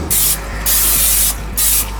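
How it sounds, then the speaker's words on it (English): Pam cooking spray shot into a baking dish, three close, loud hissing bursts of about half a second each with brief pauses between them. "I'm going to spray it with some Pam."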